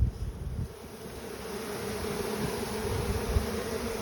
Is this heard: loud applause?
no